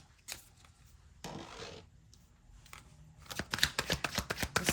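Tarot cards are shuffled close by in quick papery riffles and slides, quiet at first and then a denser run of crisp flicks toward the end.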